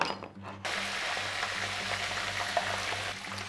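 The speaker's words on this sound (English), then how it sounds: "Very gently, we are gonna be lowering this into our oil." Cracked crab claws go into hot oil. The quiet start jumps into a sudden, steady, close sizzling hiss with faint bubbling crackle that holds to the end.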